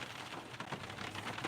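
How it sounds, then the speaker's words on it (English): Rain falls steadily outdoors, a continuous dense hiss with no distinct drops or voices, fairly faint and even throughout. "hopefully by 8 o'clock, this rain goes away"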